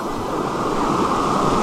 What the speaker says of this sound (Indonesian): Sungainya benar-benar sangat deras.